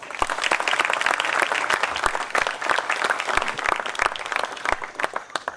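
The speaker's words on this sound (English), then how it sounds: "an even louder round of applause for all the ex-Picons" Loud, sustained applause from an audience at a poetry reading event, dense crowd clapping filling the whole stretch without speech.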